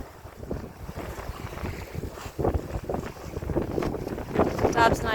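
Sailboat under way on a bay in October wind, with steady wind buffeting and water rushing and splashing against the hull nearby, and a voice speaking faintly over it.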